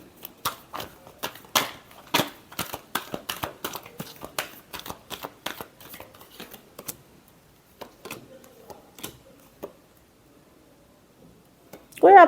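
Tarot cards being shuffled by hand: a rapid run of crisp riffling snaps and flutters, loud and close at first, then thinning to scattered soft flicks before a brief sharp sound at the end.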